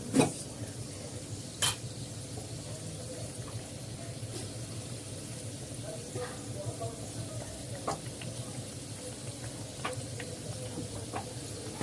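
Karanji, filled Diwali sweet dumplings, frying in hot oil, giving a soft steady bubbling sizzle with a few light clinks of utensils, faint and continuous.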